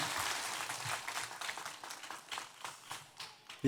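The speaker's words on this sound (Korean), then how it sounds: "박수로 맞이하도록 하겠습니다" A church congregation applauds to welcome performers during a Sunday worship service, a steady wash of clapping that swells and fades in waves across the room with no voices over it.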